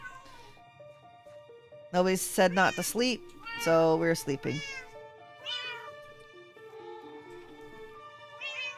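Cats in the Minecraft video game meow repeatedly in loud bursts with short gaps, beside a jelly farm at bedtime, while a player talks quietly over them.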